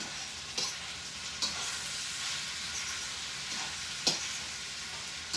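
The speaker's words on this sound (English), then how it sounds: "when I'm sauteing my vegetables" Vegetables sautéing in a pan, a steady close sizzle with occasional louder crackles and a stir or two, no talking.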